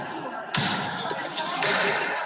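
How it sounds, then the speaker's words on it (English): A crowd bangs on the doors of the US Capitol: one heavy slam lands on a dense, roaring wash of crowd noise and shouting voices that keeps going. "They were literally banging on the doors of Congress."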